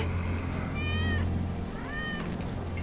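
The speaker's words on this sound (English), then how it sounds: "That's Wedge's cat." Cat meowing in Final Fantasy 7 Remake, two drawn-out meows in a row over a low, steady background hum, fairly clear and without speech.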